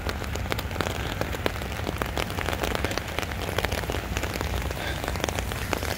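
Rain falls steadily on surfaces outdoors, a dense, close patter of drops that continues evenly throughout with no voices.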